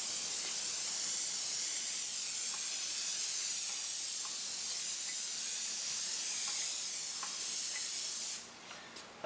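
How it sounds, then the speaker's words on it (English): An airbrush sprays paint onto a semi truck mural, a steady close hiss of air with faint sputtering as white specks splatter, cutting off abruptly near the end. "you're gonna pull your pressure back on your trigger, and what it'll do, it'll splatter white specks all over"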